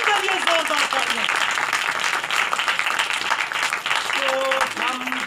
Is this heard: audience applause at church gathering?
yes